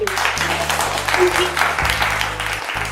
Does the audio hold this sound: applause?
yes